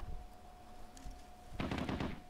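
Rapid bursts of gunfire in the video game Squad erupt partway through, dense crackling shots following a quieter stretch with a steady background tone.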